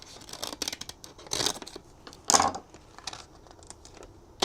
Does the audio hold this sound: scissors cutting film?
yes